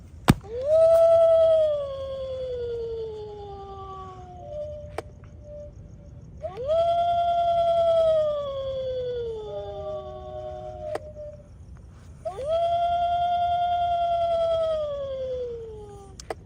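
A Halloween decoration dog lets out three long, sliding electronic howls, each fading downward, separated by short pauses; loud, close and alone.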